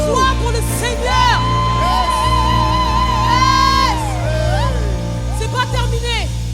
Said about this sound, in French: Est-ce qu'on peut pousser des cris de joie pour le Seigneur?